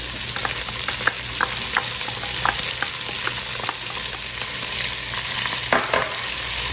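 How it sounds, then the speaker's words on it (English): Onions going into hot bacon fat in a pot for Southern-style black-eyed peas, giving a steady loud sizzle with scattered crackles and spoon scrapes throughout, no talking. "So we're going to go in with our onions."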